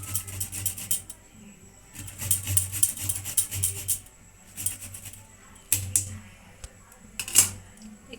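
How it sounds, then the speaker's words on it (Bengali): Fresh ginger scraped against a grater in a home kitchen, giving bursts of rapid, rasping strokes in several runs separated by short pauses, close and fairly loud, with a sharp knock near the end. "আমি একটু আদা এখানে গ্রেট করে নিচ্ছি"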